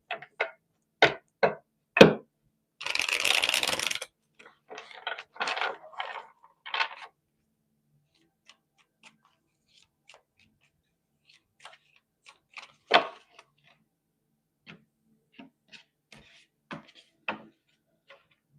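A deck of tarot cards shuffled by hand in short, separate bursts of crisp riffling and tapping, then a longer soft riffle, followed by scattered faint taps and near silence.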